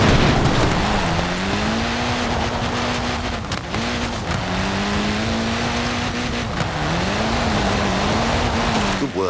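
A Mini car in the racing game Forza Horizon 4, its engine droning loud and steady close by with small rises and dips in pitch, and a broad rushing noise underneath.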